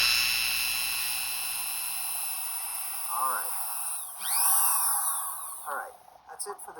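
A high-pitched Dremel rotary tool whines steadily while drilling holes in teardrop earrings, its pitch sweeping up and down as it bites into material, then cuts off near the end.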